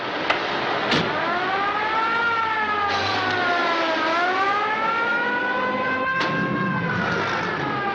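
An ambulance siren wails in long rising and falling tones as it drives off, loud and near, with a few sharp clunks and a low engine rumble beneath, in an old film.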